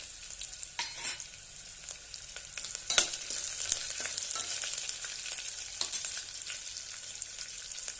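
Chopped green chillies sizzle in hot oil for veg pulao, a steady close crackle with scattered sharp pops and occasional stirring, and no voices.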